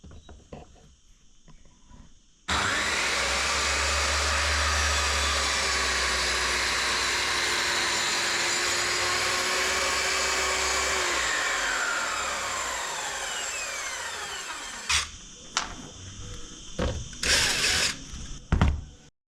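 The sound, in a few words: saw running in homemade track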